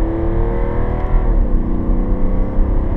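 A 2018 BMW X3 30d diesel engine revs up hard in sport mode and accelerates to overtake, the pitch climbing steadily as it pulls away, loud and close.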